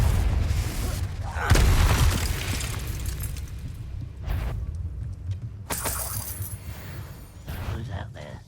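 Repeated Confringo fire-spell blasts in the Hogwarts Legacy video game, several sharp bursts and booms with ringing debris over rumbling combat ambience and game music, with a character's voice speaking between them.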